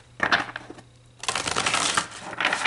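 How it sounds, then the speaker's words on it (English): A deck of oracle cards being shuffled by hand, two bursts of rapid papery riffling and flapping separated by a short pause, close and fairly loud. "Just want to shuffle these really good."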